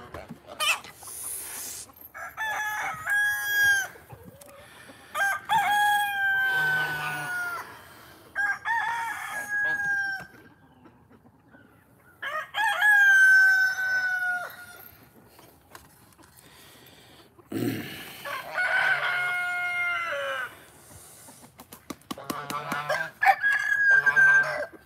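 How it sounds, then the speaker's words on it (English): A rooster crows several times in a farmyard, with long, strained cock-a-doodle-doo calls spaced by pauses and a few soft clucks in between, close and clear. "Bless your heart, you tried to crow, didn't you?"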